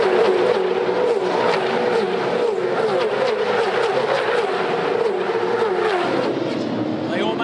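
Supercars V8 touring cars race flat out down the Peter Brock Straight toward a tight corner at the 2013 Adelaide 500 street circuit, a loud, sustained engine roar at high speed with a race commentator talking over it throughout.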